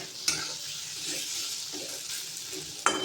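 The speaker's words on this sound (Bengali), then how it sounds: "হয়ে গেছে মশলাটা কষানো" Masala paste for egg and fish sautéing in a pan, a quiet continuous sizzle with occasional stirring scrapes and two sharp utensil clinks, close and unaccompanied by speech.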